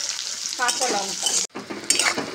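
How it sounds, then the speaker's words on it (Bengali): A bay leaf and dried chillies sizzle loudly in hot oil in a village kitchen. The frying hiss runs steadily with a stirring scrape, broken by one brief cutoff. "তেল গরম হয়ে গেছে, দিয়েছি তেজপাতা, শুকনো লঙ্কা, সঙ্গে কাঁচা লঙ্কা"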